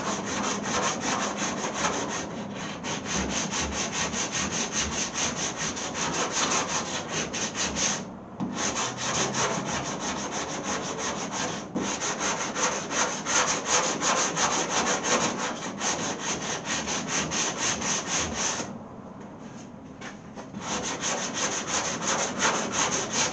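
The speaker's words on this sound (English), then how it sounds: "Board sander will make pretty quick work of that." A board sander works a 1929 Chrysler body panel with a steady, close rasping scrape, broken by two short pauses before resuming at the same pace.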